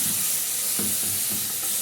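Tomatoes are tipped into a pan of frying sausage, giving a steady close sizzle with a few soft stirring scrapes throughout the short moment.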